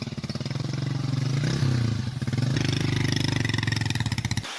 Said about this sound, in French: Seul moyen de se déplacer ici, afin de se mouvoir plus rapidement, la moto